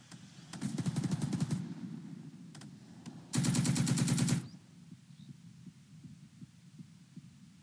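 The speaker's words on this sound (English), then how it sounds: "The German MGs cut down the Russians." German machine guns firing in a Second Front wargame scenario, two short rapid bursts of clattering automatic fire separated by a few single cracks, over a low continuous hum, with no talk.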